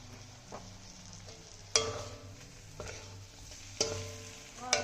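Paneer is stirred into pointed gourd already cooked down with spices in a pan, giving a low steady sizzle broken by several sharp scraping clanks of the spatula against the pan, with no talking.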